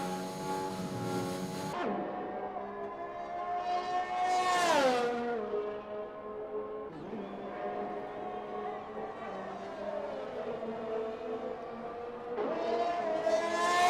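An Aston Martin race car in a racing game, heard onboard, screams through gear changes, its engine note climbing and dropping repeatedly with quick upshifts, loud and close without talk.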